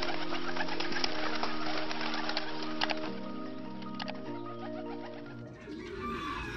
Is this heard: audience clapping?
no